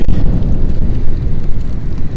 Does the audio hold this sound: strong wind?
yes